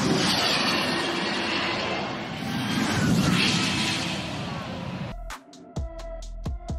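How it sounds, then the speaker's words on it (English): A 1000-horsepower electric single-seater fan car on the Goodwood Hillclimb, a loud sustained whine and rush of air as it passes close by, cut off abruptly near the end by a spoken voice. "1000 horsepower electric car with a fan, creating excessive downforce"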